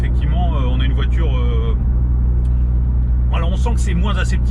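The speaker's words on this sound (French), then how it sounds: "On a l'échappement qui ronronne gentiment à l'arrière." A Mitsubishi Lancer Evo 9 on the road at normal pace, its exhaust giving a low, steady rumble from inside the car that runs under someone talking throughout.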